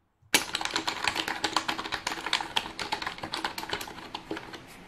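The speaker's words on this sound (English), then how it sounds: "I think the keys on the keyboard are a little bit too sticky, and also they're just too loud to type with." Rapid typing on a Logitech MK850 wireless keyboard with sticky, loud keys, a dense run of clacking keystrokes that starts abruptly and continues steadily, close and fairly loud, with no voices.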